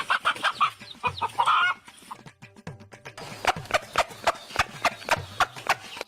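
A chicken clucks in a string of short, rhythmic calls, close and fairly loud, with a few rustling scuffles between them and no speech.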